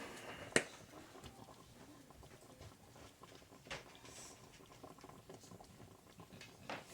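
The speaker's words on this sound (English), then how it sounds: "you're just going to simmer this" Pork chop gravy made with Danos seasoning simmers quietly in a pan, a faint, steady bubbling patter with soft pops and one sharp click near the start.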